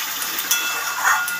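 Potatoes sautéing in spices for a light katla fish curry, a steady broadband sizzle and hiss throughout with a couple of brief louder crackles.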